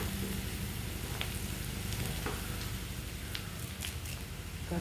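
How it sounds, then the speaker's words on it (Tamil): Prawn gravy ingredients sauté in a pan with a soft, continuous sizzle and occasional light stirring scrapes, close and fairly quiet, with no talking. "இன்னும் கொஞ்சம் நல்லா வதங்கட்டும்."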